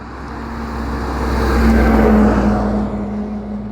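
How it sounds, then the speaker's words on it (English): A vehicle approaches and rolls past near a small drone flying outdoors, its engine rumble swelling to a peak mid-way then easing off, heard over a constant high-pitched propeller whine. "Truck coming."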